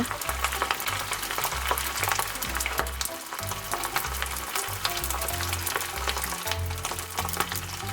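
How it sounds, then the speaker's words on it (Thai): Shaped rice balls fry in oil over low heat, giving a continuous close crackle and sizzle with frequent small pops and a soft low rumble underneath, with no speech. "จากนั้นเราก็จะทอดข้าวที่เราปั้นเมื่อกี้เลยค่ะ เราจะใช้ไฟอ่อนทอดไปเรื่อยๆนะคะ"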